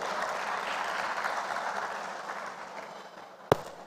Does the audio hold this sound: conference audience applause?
yes